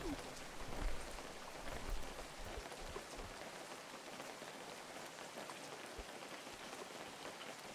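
Rain in the fishing video game Webfishing patters steadily on the ground, a soft even hiss with a few low thumps early on.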